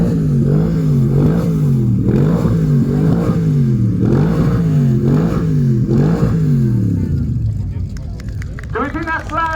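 A Cobra sports car engine revs hard at an outdoor classic car show, in repeated rising and falling throttle blips, loud and close, while voices talk over it near the end.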